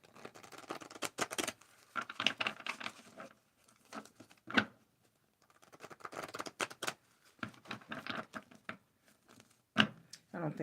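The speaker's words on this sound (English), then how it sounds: "Let me shuffle again." Tarot cards are shuffled by hand in close, crisp bursts of riffling and patter, separated by short pauses and sharp single card snaps.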